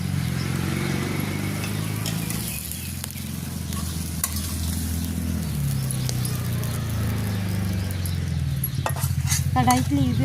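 Fried okra scooped out of a wok over a wood-fired clay stove, with a spatula scraping and clattering against the pan amid a continuous low sizzle, close up and without talk.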